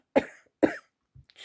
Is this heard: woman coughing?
yes